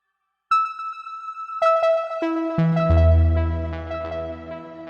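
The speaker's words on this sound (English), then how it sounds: "Which is just a standard saw ARP again." A layered synth arpeggio built from a saw wave with an added sine layer, bright sustained notes entering one after another and stacking downward into a deep, full chord that rings out alone.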